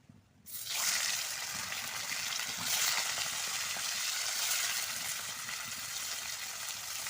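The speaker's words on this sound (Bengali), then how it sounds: "ওদিকে মাছগুলো ভাজা হচ্ছে" Fish coated with turmeric and chilli, hilsa by the following remarks, hit hot oil with a sudden loud hiss that settles into a steady, close, continuous sizzle.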